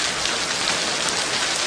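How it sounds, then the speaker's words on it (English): Steady rain falling and pattering on surfaces, a loud, even hiss of many drops that stays constant throughout without any voices. "It's raining."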